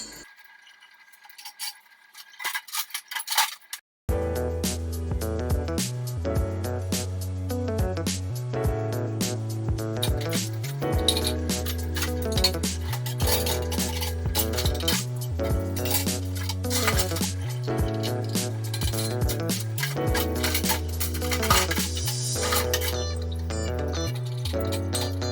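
Stainless steel and ceramic dishes loaded into the lower rack of a dishwasher, with steady clinks and clatters of pots, plates and cutlery running continuously after a quiet start, close and without talk.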